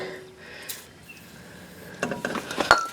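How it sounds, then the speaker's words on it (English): A wrench works a rusty rear shock bolt loose on a 2000 Ford Ranger: a quiet stretch, then a quick cluster of sharp metallic clicks and ratcheting knocks near the end. "So let me get a wrench on the back side."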